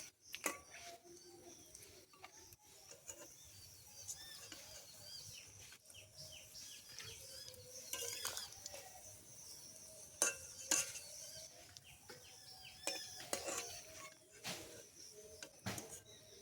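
Jute leaf fritters lifted slowly out of hot frying oil: a steady, soft sizzle runs throughout, with occasional clinks and scrapes from the utensil and faint chirps of birds in the background.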